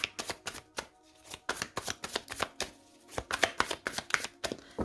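A deck of tarot cards is handled and cut close by, producing quick papery flicks and riffling snaps in an uneven rhythm with short gaps between bursts, with no talking.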